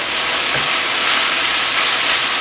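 Ground beef mixture for empanadas sizzles steadily in a hot pan, a loud, continuous frying hiss with no talking.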